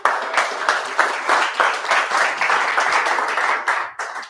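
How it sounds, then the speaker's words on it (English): Audience applause for a pitch presentation at an incubator program graduation party: a lively burst of many hands clapping close by, steady and dense, tapering off after about four seconds. "Round of applause for Galaxy."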